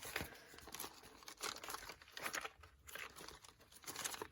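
Paper crinkles and rustles softly at close range as pages are turned and handled, in irregular bursts.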